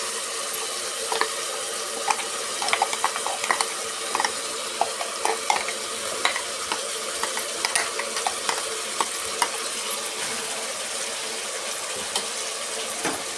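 Ground masala paste fried and stirred in hot oil for a temple-style vegetable pulao, a continuous sizzle with repeated scraping and clinking stirring strokes, close and fairly steady, with no talking.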